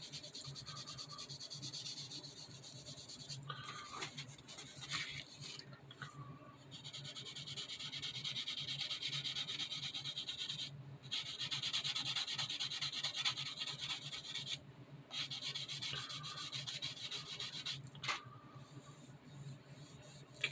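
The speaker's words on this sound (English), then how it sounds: "Primer is dry, so just need to sand it enough to just smooth it all out." Hand sanding of dried primer on a model Mazda RX-7 car body, a close, quiet, continuous scratchy rubbing in uneven strokes with several brief pauses, and no talk.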